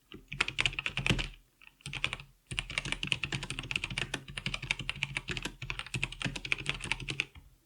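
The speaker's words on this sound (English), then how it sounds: "Here's a bit of a sound test." Typing on a Logitech G513 mechanical keyboard fitted with SteelSeries PrismCaps keycaps and O-ring dampeners: fast, close-up clacking keystrokes in steady bursts, broken by two short pauses, with no talking.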